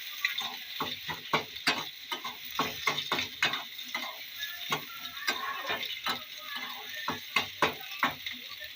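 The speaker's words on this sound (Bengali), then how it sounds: "আবারও নেড়ে দেবো।" Egg with chopped capsicum, tomato and onion being stirred in a pan, a run of quick irregular scraping clicks and taps over a faint sizzle, close and fairly quiet.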